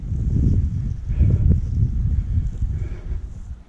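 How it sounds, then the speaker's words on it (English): Gusty wind buffets the microphone on a rocky section of the Pinhoti Trail near Cheaha, Alabama, a steady low roaring rumble that fills the whole stretch with no talking. "Hope you can hear me with the wind"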